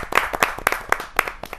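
Applause at a Hindi kavi sammelan poetry gathering as poet Vinay Vinamra is welcomed: a few distinct, fairly loud claps spaced irregularly, sounding like a modest audience rather than a sustained roar.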